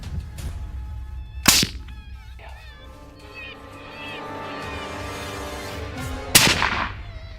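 Gunshots from hunters firing at a bobcat: two sharp, loud cracks about five seconds apart, the first near the start and the second near the end, with faint animal-like cries and rustling between them.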